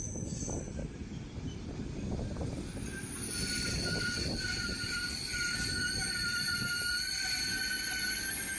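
The Lovćen night train runs on the Belgrade to Bar mountain railway with a steady rumble of wheels on track. High, sustained wheel squeal joins it partway through and keeps going, close and loud. No one speaks.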